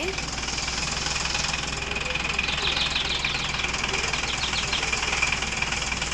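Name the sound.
vehicle engine running while stuck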